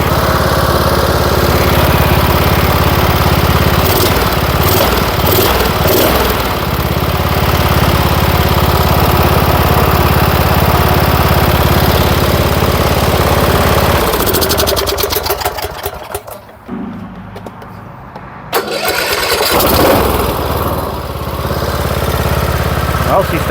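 A 2013 Cub Cadet LTX 1040 lawn tractor engine, restarted after sitting for years, runs steadily and loudly up close, briefly dropping off before picking back up.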